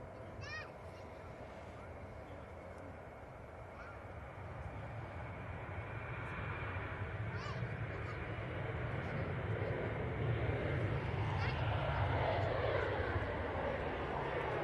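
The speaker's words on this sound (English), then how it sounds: "this Ryanair's off to Alicante. It's on the roll." A Ryanair jet airliner bound for Alicante rolls down the runway on takeoff, its broad engine roar building steadily and growing louder over about fifteen seconds at a moderate distance.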